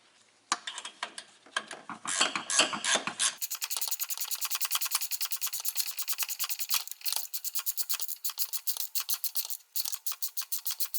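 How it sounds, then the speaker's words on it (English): Speed wrench spinning the upper strut nuts on a 2004 Ford Explorer 4x4 rear suspension makes a rapid, even ratcheting chatter. It runs close and steady for several seconds after a brief start-up rattle. "Just have to get in there with my speed wrench and run them down"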